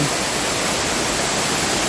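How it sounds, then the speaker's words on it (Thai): A limestone waterfall pours in a steady, dense rush of white noise, constant and fairly loud with no other sounds. "ก็เป็นน้ำตกหินปูนนะ"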